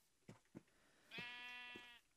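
A black sheep bleats in a block-building crafting game, one long wavering bleat after a couple of soft thuds, close and clear with no talking.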